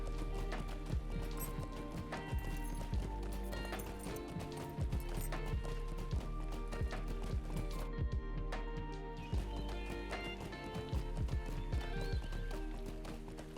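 Horse galloping in The Lord of the Rings Online, with steady rhythmic clip-clop hoofbeats throughout, occasional whinnies, and a continuous game backdrop layered underneath.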